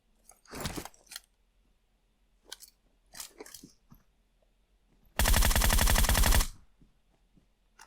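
A few sharp gunshot-like bursts early on, then a loud sustained spray of rapid automatic fire lasting over a second, with quiet gaps between, in the PUBG Mobile Metro Royale mode.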